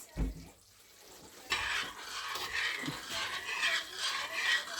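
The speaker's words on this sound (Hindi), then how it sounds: "तो हम चीनी को इसमें अच्छे से हिला लेंगे, 1-2 इसको बॉयल आएंगे" Sugar being stirred into roasting semolina for halwa in a pan, a steady soft scraping and sizzling hiss that rises after a brief thud and continues close and moderately loud.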